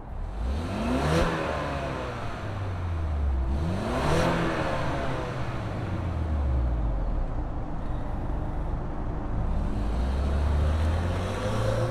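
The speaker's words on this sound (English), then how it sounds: "let's fire up this 4-cylinder turbo and see this Explorer" A 2025 Ford Explorer ST-Line with its 4-cylinder turbo engine accelerating, revving up through repeated gear sweeps, loud and close with a continuous roar and rising whine.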